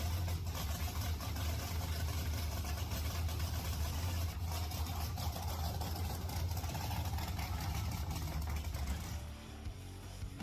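Pagani Zonda engine rumbling at idle with a deep, steady low burble from the exhaust pipes, continuous and fairly close, easing off slightly near the end.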